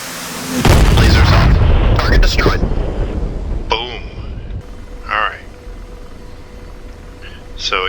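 Hellfire missile launched from an AH-64D Apache in the DCS flight simulator: a loud, sudden booming roar that swells and rumbles for a couple of seconds, then fades under cockpit tones and a voice talking.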